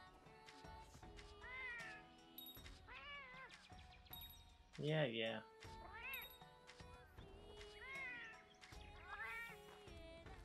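Cat-like meows from a feline companion in the video game Monster Hunter Rise, several rising and falling calls spread across the stretch, with a person talking briefly among them.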